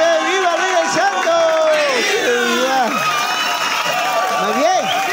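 Crowd cheering, whooping and clapping at an in-person birthday serenade for Ulises, a continuous loud roar of many voices with shouts rising over it throughout.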